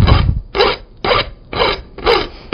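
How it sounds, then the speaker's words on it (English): A smooth-side hoof rasp files a still-hot forged iron spoon in five steady, rhythmic strokes, each a loud, close rasping scrape separated by brief pauses, with no talking. "Now, normally, this rasp is much too coarse to try to file a piece of metal with."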